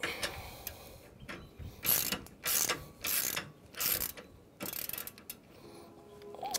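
A ratchet snugging down the lock nuts on a HitchClamp CrossClamp 2-inch anti-rattle hitch clamp, heard as about six close, rhythmic bursts of clicking pawl with short gaps between strokes.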